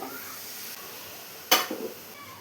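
Washed raw chicken and cut breadfruit tipped into a cooking pot, a sharp splash-and-sizzle burst followed by a few softer shuffling clatters against a quiet kitchen hum.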